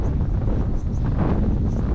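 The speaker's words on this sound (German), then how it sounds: "Der Wind insgesamt ist doch auch etwas stärker als angesagt" Strong wind buffets the microphone at a coastal paragliding launch site in Tribalj, Croatia, producing a loud, steady low rumble that continues throughout without speech.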